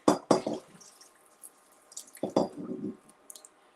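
Rice for jollof is rinsed in water, with sloshing and splashing bursts at the start and again near the end, separated by quiet drips and faint clicks, close by.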